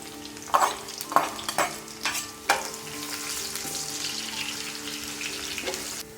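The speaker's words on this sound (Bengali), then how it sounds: "তেলটা গরম হয়ে গেলে আমরা কেটে রাখা পেঁয়াজগুলো দিয়ে দিব।" Chopped onions hit hot oil in a pan for a chicken and potato curry, giving a steady close sizzle and bubbling broken by a few scraping stirs.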